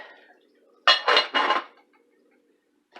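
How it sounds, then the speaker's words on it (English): A metal lid set back onto a cooking pot of frying onions for pierogies: a quick run of three bright clanks close by, then quiet with a faint tap at the end. "Put the lid back on."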